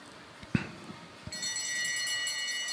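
A bell rings for the final lap at a velodrome during a track cycling series race, with a couple of sharp strikes followed by a sustained bright ringing tone over crowd ambience.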